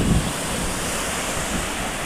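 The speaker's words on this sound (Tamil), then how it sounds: "இந்த கடல் அலைகளெல்லாம்" Steady broadband roar of sea waves washing in at Auroville beach, Pondicherry, with strong wind rushing across the microphone; continuous and fairly loud, no voices.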